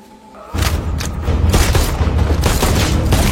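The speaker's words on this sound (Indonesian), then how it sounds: "John dan Bishop selamat dari tembakan RPG" An RPG blast in an action film: a heavy, sustained explosion roar with crackling debris and rumbling booms filling the whole stretch, loud and close, without speech.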